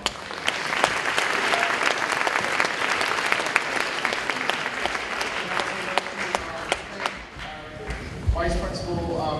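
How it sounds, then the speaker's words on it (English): An audience at a school advanced band concert breaks into dense, lively applause with sharp individual claps, fading after about seven seconds as a voice starts speaking. "So please give yourself a round of applause."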